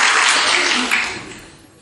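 A church congregation breaks into applause during a sermon, a brief loud wash of clapping that fades over about two seconds.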